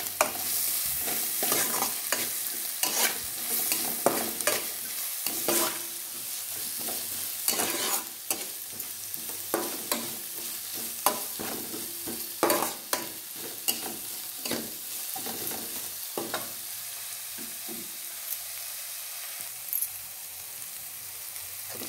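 Onions and tomatoes with a little grated ginger frying in a pan, stirred with repeated scraping strokes over a steady sizzle, close and fairly loud with no talking.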